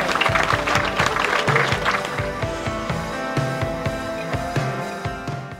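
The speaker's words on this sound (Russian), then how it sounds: "Ваши аплодисменты, Family." An audience applauds at the awards ceremony of a carp fishing tournament held at a lake, steady clapping over a rhythmic musical beat that continues throughout and slowly softens.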